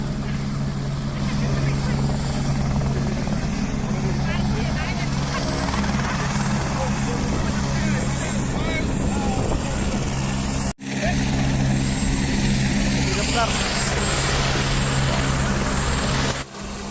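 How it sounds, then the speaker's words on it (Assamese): A helicopter at the Dwijing Festival 2020 thrums with a loud, steady rotor whine and engine drone heard up close, while someone talks over it and crowd noise mingles underneath. "এইবাৰ আমি গৈ আছোঁ হেলিকপ্টাৰৰ ফালে বলক আপোনাক হেলিকপ্টাৰটো একদম ওচৰৰ পৰা গৈ কেনেকুৱা ভিউ আহে"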